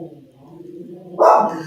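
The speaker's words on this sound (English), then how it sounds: "Jasper, who probably has spotted another dog out in the neighborhood" A dog named Jasper, reacting to another dog in the neighbourhood, lets out a single sharp bark after a low whine, close and loud.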